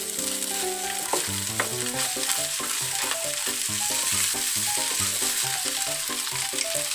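Pork mince, mixed vegetables and glass noodles sizzle and crackle in a hot wok while a utensil scrapes and clatters against the metal in a quick, busy rhythm, close up, with no speech.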